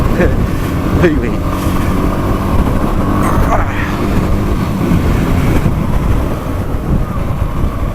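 A rider on a BMW WR motorcycle, with a steady engine drone heavily mixed with rushing wind buffeting the microphone throughout.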